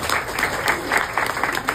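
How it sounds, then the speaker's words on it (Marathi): An audience claps in a steady, fairly loud burst of applause that lasts the whole stretch, with no one speaking over it. "टाळ्या वाजवा ताईंसाठी"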